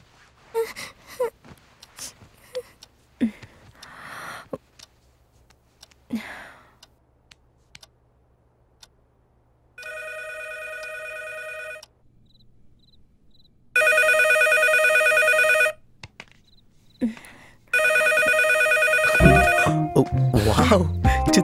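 A telephone rings in bursts of bright electronic trills, alternating with silent gaps, amid scattered clicks, gasps and movement; a voice speaks near the end as the ringing continues.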